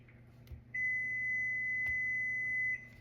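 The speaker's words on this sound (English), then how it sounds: "My white chocolate's melted. I can hear it beeping" One sustained electronic beep from an appliance after melting white chocolate holds steady for about two seconds, clear and fairly loud over a quiet room hum, then stops.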